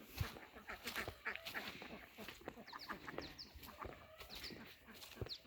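Farm ducks and chickens call near a walking person, a busy mix of quacks and clucks in scattered bursts over soft footsteps and rustling, fairly quiet and close, with no clear talk.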